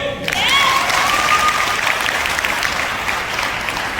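An audience clapping in a hall at a company meeting, a loud sustained burst of many hands that starts abruptly, with a voice calling out briefly over the opening.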